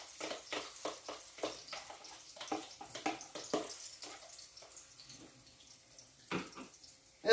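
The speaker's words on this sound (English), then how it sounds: "just pour the eggs on top of it" Beaten eggs poured over browned potatoes in a hot pan for a sausage breakfast, a soft run of sizzling crackles and pattering splashes that fade, fairly quiet.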